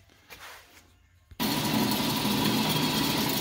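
A drill with a 3/4 inch bit starts abruptly after a quiet moment and then boring runs at high speed, a loud steady whirring grind held close, with no voices.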